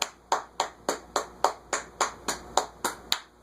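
A steady run of about a dozen quick hand claps in even rhythm, close and crisp, in an otherwise quiet indoor room.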